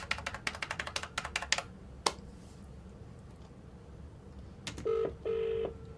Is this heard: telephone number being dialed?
yes